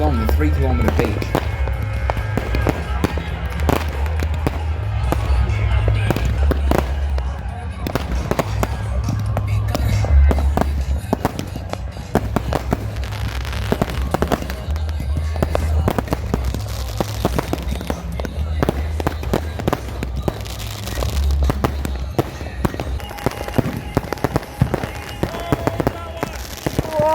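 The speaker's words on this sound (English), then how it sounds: "You can see the fireworks all the way along the 3-kilometer beach." New Year's Eve fireworks go off along a beach in Goa as dense, continuous crackling and popping, near and far, layered over a low rumble of booms. Voices in the crowd are heard beneath the bursts.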